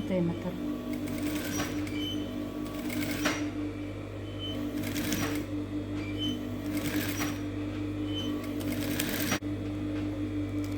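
Sewing machine stitching a collar seam, a steady mechanical hum with repeated bursts of running stitches, close and continuous, while a person talks over it.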